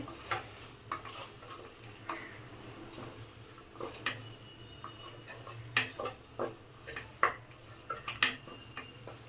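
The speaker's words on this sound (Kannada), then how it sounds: "ಬಟಾಣಿ ಮತ್ತು ಬದನೆಕಾಯಿ ಎಲ್ಲ ಮಿಕ್ಸ್ ಆಗಬೇಕು ಆ ಮಸಾಲ ಜೊತೆ." Peas and brinjal are stirred with masala in a pan for vangi bath, with a soft sizzle under repeated scraping and clinking of a spoon against the metal, close and irregular.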